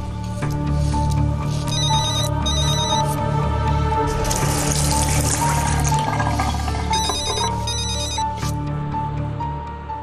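Telephone bell ringing loudly and continuously in repeated trilling bursts, with steady background noise beneath it and no one talking.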